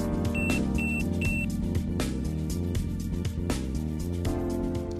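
Three quick, high electronic beeps from a motorized blind during setup sound in a row early on, almost buried under loud, busy background music.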